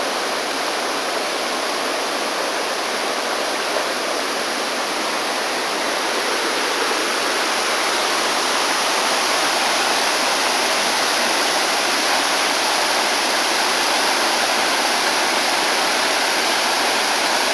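A forest waterfall and mountain river rush in a constant, loud broadband roar of falling water, unbroken and steady throughout with no voices.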